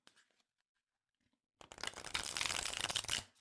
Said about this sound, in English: this is the first time I've shuffled these cards